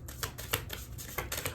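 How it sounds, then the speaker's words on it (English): Close, quick riffling and slapping of a whole deck of tarot reading cards being shuffled, several crisp bursts of card flicks in an uneven rhythm. "Doing the most, shuffling the whole book in here."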